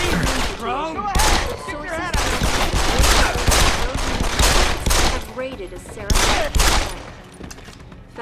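Enemy gunfire in Deus Ex: Human Revolution, repeated loud bursts of shots mixed with in-game voices and other game sounds, keeping up steadily through the whole stretch.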